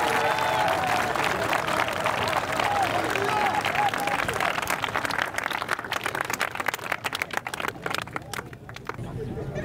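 A crowd at an evangelism meeting applauds and cheers, dense clapping and voices that gradually thin into scattered, sharper claps toward the end.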